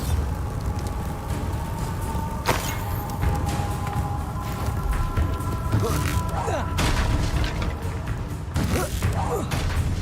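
A Bombarda explosion spell goes off in the video game Hogwarts Legacy, sharp booms and thuds among busy battle noise and game sounds, with voices talking over them.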